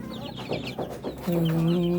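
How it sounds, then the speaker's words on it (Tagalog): Two-day-old Muscovy ducklings and Rhode Island Red chicks peep and chirp at feeding time, close and busy, with a sustained high cheep rising near the end. "Yan yung mga ducklings natin at saka Rhode Island chicks."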